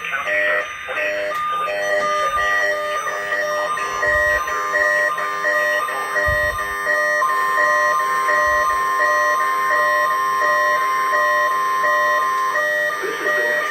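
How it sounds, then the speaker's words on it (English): Two-tone NOAA weather radio test alarm from a National Weather Service broadcast, a loud steady electronic tone running continuously for the whole stretch with no talk. "The preceding signal was a test of the NOAA All Hazards Radio Public Warning System"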